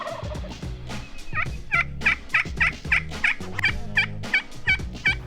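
Several wild turkeys gobble in quick succession, loud and close, each burst a rapid rattling call repeating about every half second, outdoors on a Texas ranch in springtime.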